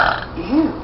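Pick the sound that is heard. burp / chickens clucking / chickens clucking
burp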